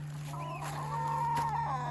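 Chickens clucking outdoors on grass: close, continuous fowl chatter with a low steady hum behind it, no talk.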